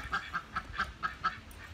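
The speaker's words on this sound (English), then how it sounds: "There's our ducks, Buttercup and Butterscotch." Two pet ducks in a backyard garden quack in a steady series of six loud, evenly spaced calls, the female much the louder, close by and with no talk over them.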